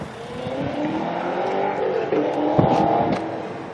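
A car moves nearby, a steady engine hum that rises and shifts in pitch as the vehicle drives past at moderate volume, with no talking.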